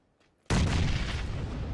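A grenade detonates in a shooter video game: near silence, then one sudden loud boom that rolls into a sustained, dense roar for the rest of the moment, with no talk.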